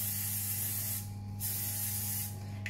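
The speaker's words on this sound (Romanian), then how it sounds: "Peste care o să turnăm puțin ulei de cocos spray," Coconut oil cooking spray hisses over potatoes laid in a baking tray, a close, steady spritz with a brief break partway through and another near the end, alone without talk.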